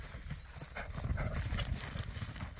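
Hooves of a criollo horse clip-clopping steadily on the ground, a continuous rhythmic beat close by with no talk over it.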